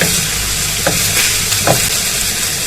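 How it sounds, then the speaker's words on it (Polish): Garlic frying with onion in a pan, a loud, dense, continuous sizzle with two brief stirring scrapes and no talk. "I również podsmażamy razem z cebulą."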